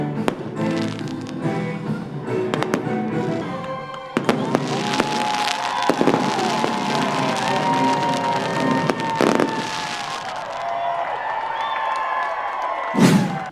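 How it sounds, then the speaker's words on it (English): Disney cruise ship fireworks show on Pirates Night at sea, repeated sharp bangs and crackling bursts with whistling trails, loud and continuous, with faint crowd noise beneath. "We had some great fireworks like only Disney can do it."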